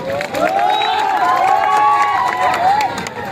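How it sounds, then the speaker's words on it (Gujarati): A crowd at a public gathering in Morbi breaks into lively applause and cheering, loud and sustained, with voices mixed into the clapping. "જોરદાર તાળી થઈ જાય"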